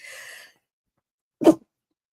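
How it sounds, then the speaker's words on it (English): A single sharp sneeze bursts out after a brief soft hiss, short and close, followed by silence. "That's what you get for having a live broadcast, is a sneeze right there when it's inconvenient."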